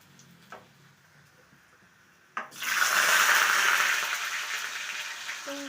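After a quiet stretch and a sharp clack, a loud sizzling hiss bursts up as potatoes are tipped into hot oil with chilies, continuing steadily and slowly easing off, close by.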